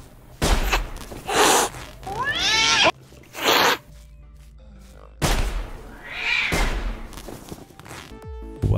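A cat meows loudly several times in separate drawn-out calls with gaps between them, close to the microphone, with no talking over it.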